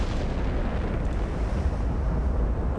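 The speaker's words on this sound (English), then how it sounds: "I love firing the full broadside like that." A warship fires a full broadside in the naval game Ultimate Admiral Dreadnoughts, a dense sustained roar of heavy gunfire that stays loud and rumbling throughout without distinct gaps or talking.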